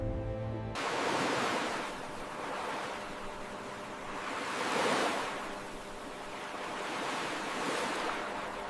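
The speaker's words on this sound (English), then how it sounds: "The Pacific, the largest body of water on the planet, stretches from the Arctic to the Antarctic" Pacific Ocean waves break in slow, rolling surges, each swell of hissing surf rising and fading every couple of seconds, steady and moderately loud after a brief tonal opening.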